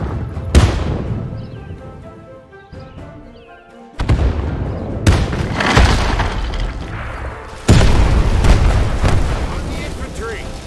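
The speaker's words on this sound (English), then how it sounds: "Artillery preparation mode." Artillery fire in the Men of War II battle game: heavy booms and blasts strike repeatedly, with loud sudden impacts followed by rumbling decay, and voices speak amid the barrage.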